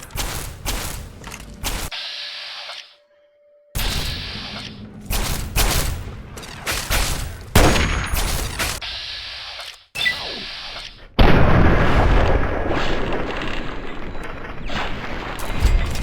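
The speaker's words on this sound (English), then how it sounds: "there was a gunshot and their friend exploded" Video game gunfire and explosions in a permadeath game, loud bursts of shots and booming impacts in irregular clusters separated by short silent gaps, with a heavy sustained blast near the end.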